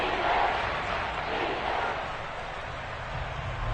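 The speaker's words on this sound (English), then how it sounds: "The crowd getting into it as we come up on a big 3rd down." A football stadium crowd roars before a big third-down play, a dense, steady wall of distant cheering that fills the space without any clear single voices.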